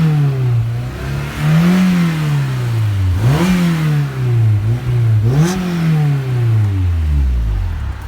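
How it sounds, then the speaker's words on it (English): A 2001 Honda S2000 with an upgraded aftermarket exhaust idles, then gets several rising revs that fall back each time, staying below the VTEC band at 6,000 RPM. The engine note is loud and close and is heard alone. "Give it a couple more revs for you."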